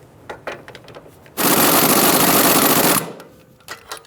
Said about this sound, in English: And now I'm just holding it on the back side with some locking pliers and using my air gun on it.